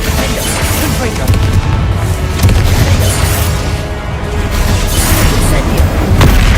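Booming fire-spell blasts from a wizarding school video game, a dense, loud wash of explosive bursts and crackle running throughout with a voice calling over it.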